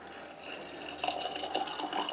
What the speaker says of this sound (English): now we're going to fill them up with water and start getting the lids on them